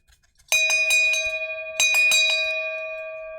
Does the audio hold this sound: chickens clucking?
no